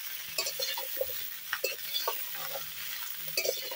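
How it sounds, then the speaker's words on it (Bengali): Vegetables lightly frying in oil for Bengali shukto, a soft continuous sizzle broken by repeated scraping stirs and light metallic clinks of a spatula against the pan, close and fairly quiet. "খুব বেশি কড়া করে ভাজবো না, শুক্তোর সবজি খুব কড়া করে ভাজতে লাগে না"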